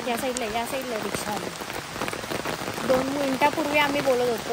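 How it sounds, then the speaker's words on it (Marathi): Steady rain falls on surfaces at Matheran, a constant close hiss of drops throughout while several people talk over it. "कसला पाऊस पडतोय यार"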